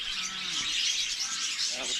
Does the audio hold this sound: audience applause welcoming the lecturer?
no